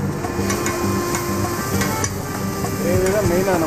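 Beaten egg and gravy sizzle on a hot griddle at an Egg Iddli stall in Madurai, a loud continuous hiss with rhythmic scraping and tapping of a spatula, close up, with busy background noise.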